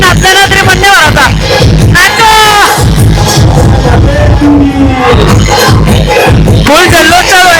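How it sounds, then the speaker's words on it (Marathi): At a palkhi procession in Turbhe, Navi Mumbai, a dense festival crowd celebrates loudly, with constant chanting and singing voices over pounding music and bangs, all close and unbroken. "फुल जल्लोष चालू आहे सध्या"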